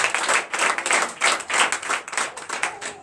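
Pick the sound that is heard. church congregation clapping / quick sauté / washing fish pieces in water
church congregation clapping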